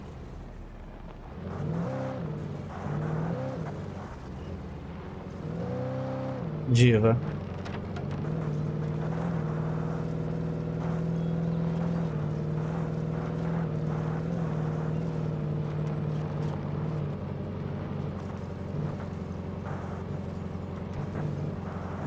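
A car in the Alan Wake Remastered video game drives on with a steady engine drone, revving in bursts early, then holding a sustained hum, as someone speaks a word over it.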